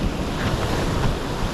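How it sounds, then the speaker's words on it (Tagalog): Big ocean waves roaring continuously, with heavy wind buffeting the microphone and no voices. "Malaki ng alon."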